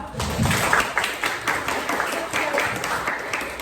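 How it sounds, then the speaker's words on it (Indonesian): A classroom gives a round of applause, with scattered, moderately loud claps from the students and a few voices mixed in underneath. "tepuk tangan lagi dulu, Pak"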